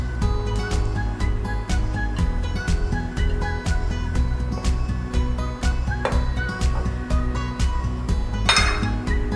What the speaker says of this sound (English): I'll use a fork, best way to mix the ingredients till the time you see a little crumbly texture being formed.